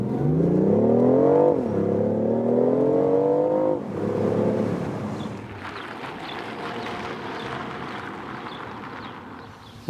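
A BMW i8 Roadster accelerates hard, its engine note climbing steadily through two gear pulls, then fading into a lighter whooshing rush of wind and road noise as the car travels on at speed.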